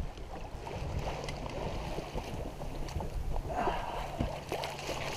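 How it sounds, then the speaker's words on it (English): Water lapping against the hull of a Tartan 37 sailboat under sail in the Exuma Sound, Bahamas, a soft, steady wash with gentle splashes and some wind noise, no speech. "the only sound on holiday is water lapping against the side of the boat"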